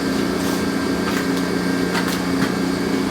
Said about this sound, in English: I'm going to run a deburr over this real quick